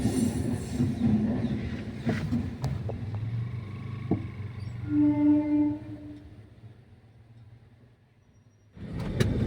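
A train rumbles past a railway level crossing while vehicles wait at the closed gate, a loud steady roll with squealing wheel tones that fades toward the end before a burst of nearby noise returns.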